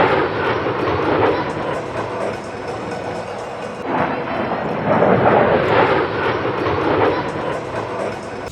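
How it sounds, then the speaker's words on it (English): Hurricane or Typhoon fighter plane banking close overhead at a theme park: a loud, sustained roaring engine rumble that swells and eases in waves throughout. "either a hurricane or typhoon came out from behind the trees, banked in a turn, absolutely incredible."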